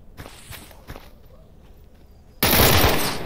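Gunfire in S.T.A.L.K.E.R. Anomaly: a few sharp scattered shots, then a sudden loud sustained burst of rapid automatic fire that fills the end of the clip.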